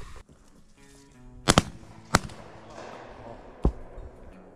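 Shotguns fire during a dove hunt, several sharp loud blasts including a quick double shot, then single reports with echoing decay over quiet outdoor background.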